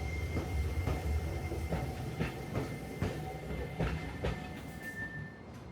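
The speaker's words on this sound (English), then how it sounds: "we were rewarded with another Kyotram" A Kyoto Randen tram runs along its rails, rhythmic clickety-clack of wheels over rail joints with steady rumble, fairly close, and a faint high wheel squeal, no voices.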